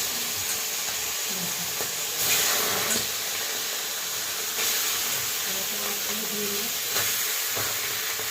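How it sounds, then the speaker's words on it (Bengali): Tangra fish frying in hot oil in a pan, a steady loud sizzle and hiss that keeps going with small surges, no talking. "এবার ট্যাংরা মাছের ঝালটা বসিয়ে দেবো, মাছগুলোকে দিয়ে নিই।"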